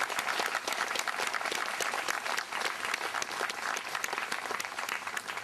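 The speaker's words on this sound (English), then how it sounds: "please give him a round of applause as well" Dense, continuous applause from a crowd honoring a school principal at a Memorial Day ceremony, the clapping steady and fairly even from start to finish with no speech over it.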